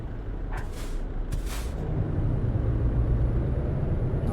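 In Euro Truck Simulator 2, a truck's air brake lets out two sharp hissing bursts over a low idling engine rumble, followed by a faint high whine as the engine note settles.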